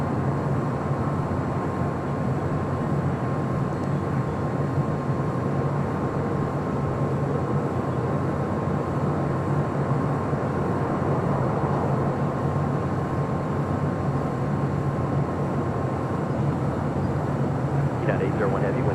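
An Alaska Horizon Embraer E-175 in a special livery at Los Angeles International Airport gives off a steady, even jet-engine drone with a faint constant tone that holds for the whole stretch.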